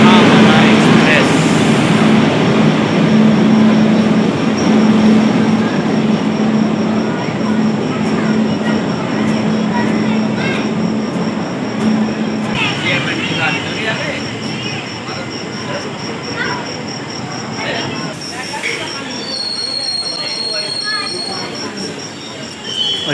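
The Varanasi Mahamana Express rolls past on the rails with a loud, continuous rumble and rushing noise, faint wheel squeal and a high tone, heard close by for a long stretch.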